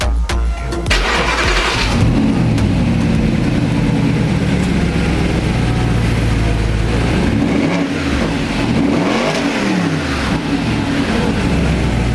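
A powerful Audi R8 engine with a custom exhaust starts and idles loudly up close, then revs sharply several times in rising and falling swells.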